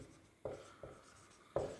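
Pen writing on paper during a maths lesson, faint close scratches with a few sharper strokes, quiet and unaccompanied by speech.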